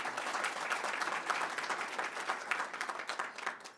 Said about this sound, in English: I also want to give Jen a big round of applause